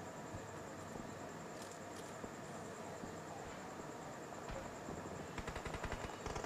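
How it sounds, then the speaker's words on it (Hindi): Heavy automatic gunfire in the BGMI (PUBG) battle royale game, fairly faint and distant: steady shooting through most of the clip, then a rapid burst of close, sharp shots near the end. "टॉक्सिक के ऊपर बहुत तेज फायर"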